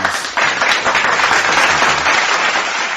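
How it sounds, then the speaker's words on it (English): A burst of crowd applause, dense and continuous clapping at close range, loud and steady throughout with no talking over it. "Thank you for the applause."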